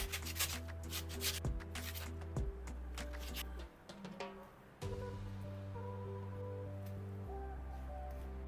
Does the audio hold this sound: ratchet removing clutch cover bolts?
no